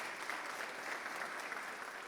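Congregation applause in a church, a steady, even patter of many hands clapping heard quietly at a distance.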